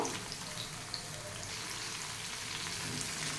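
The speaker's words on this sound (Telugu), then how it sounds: "ఉల్లిపాయ వెల్లుల్లిపాయ వేస్తున్నానండి. ఇవంతా కూడా ఆయిల్లో చక్కగా వేగనిద్దాము" Onion and garlic fry in hot oil in a home kitchen pan, giving a faint, even, rain-like crackle that holds steady throughout with no voices.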